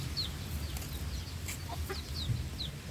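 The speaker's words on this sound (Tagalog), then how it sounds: "Mga alaga kong sisiw, tinutulungan ako, mabuti pa sila." Small pet chicks clucking and peeping close by in a yard where jackfruit is being planted. Soft, scattered high cheeps and low clucks run over a quiet outdoor background.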